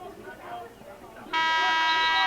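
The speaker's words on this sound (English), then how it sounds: "And there's the buzzer for the end of the third period." At a boys varsity high school lacrosse game, a loud electronic buzzer blares to end the third period, cutting in abruptly over faint announcer-like talk and holding steady to the end.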